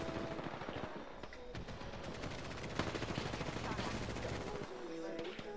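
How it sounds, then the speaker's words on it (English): Gunfire in the video game Apex Legends, including a Kraber sniper, heard as a fast stream of crackling automatic shots with sharper single cracks, fairly quiet and continuous, with voices talking over it. "there's a Kraber sniping from the other end!"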